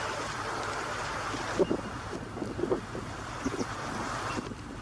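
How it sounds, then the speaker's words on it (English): Strong wind gusting by the Nepean River, a steady broad rush with a few brief louder buffets, close to the microphone and with no talk. "And it is quite windy"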